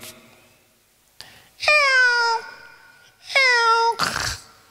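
A human voice imitates a cat's meow twice, drawn-out and whiny, with a short noisy burst at the end and quiet gaps between.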